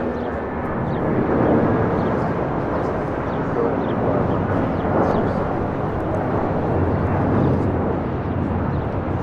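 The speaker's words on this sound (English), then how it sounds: "This takeoff is United Airlines 2333 taking off to Newark on a 757-200." A United Airlines Boeing 757-200 takes off at LAX bound for Newark, its jet engines producing a loud, steady broadband roar that holds nearly constant throughout without any voices.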